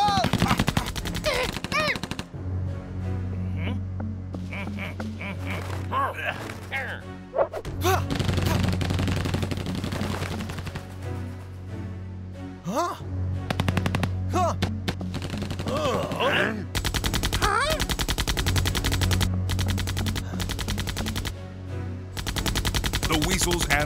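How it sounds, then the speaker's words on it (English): Sustained exchange of rapid gunfire between weasels and mysterious visitors in an animated war show, loud bursts and volleys running nearly continuously with brief lulls, no talk. "The weasels and mysterious visitors keep exchanging rounds."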